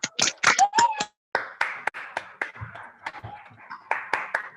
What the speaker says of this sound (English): Okay, guys, let's give a hand clap to Shafiq for sharing with us.